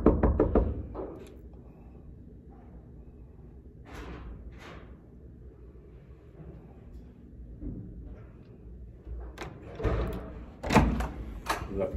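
A hotel room door in Las Vegas is handled and opened, with a few thumps, latch clicks and door movement amid quiet room ambience.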